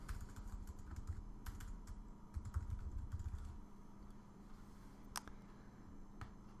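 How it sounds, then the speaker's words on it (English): Keys clatter on a computer keyboard in a quick, uneven burst of soft clicks, then trail off into a few scattered taps over a low steady hum. "I'm going to type in view controller"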